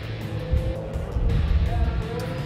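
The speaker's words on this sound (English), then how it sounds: "Daryl away first, a little skip, hop, and a jump for Ellerton" A Dodge and a 2003 Ford truck, the Ford with nitrous systems, launch at a drag race with a loud rumbling engine roar and surging revs, while a commentator talks over them.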